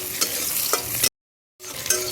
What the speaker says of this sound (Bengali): মশলাটাকে একটু হালকা করে ভেজে নেব।